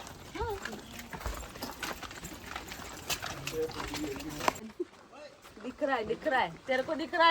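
A horse in a Konkan village near Devgad clip-clops with quick, close hoofbeats under speech, then voices continue after the hooves fade.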